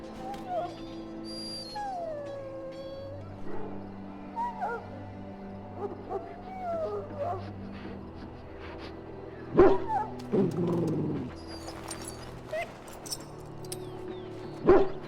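Dog whimpering with a few yips and barks in the fantasy role-playing game Dragon Age Origins, set at the Ostagar camp, heard under game music and occasional spoken dialogue, with louder bursts near the end.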